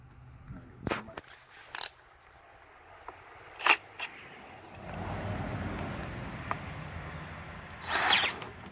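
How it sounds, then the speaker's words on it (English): A power drill whirs in a steady sustained run while boring into a cracked Kohler Courage lawn tractor engine block, preceded by a few sharp clicks and knocks, then revs louder at the end. "drilling the hole, drilling it"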